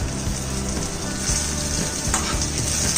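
Chutney ingredients with tamarind sizzle and crackle in a hot pan for a herbal Musumusu dosa chutney, a steady close frying hiss with occasional stirring, no voices.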